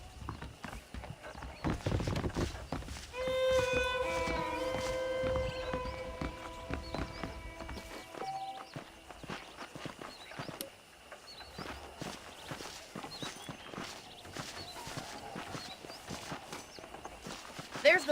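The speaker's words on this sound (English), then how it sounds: "The horses are saddled up over here." Rhythmic video-game horse hoofbeats clip-clop steadily throughout, with a sustained musical tone and a voice talking over the first half.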